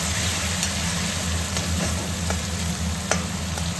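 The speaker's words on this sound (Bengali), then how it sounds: "আর এরপরে এই দেখুন রসুন ভাজা হয়ে গেছে" Garlic frying in hot oil gives a steady broadband sizzle with occasional sharp pops and faint stirring scrapes, close and continuous with no talk.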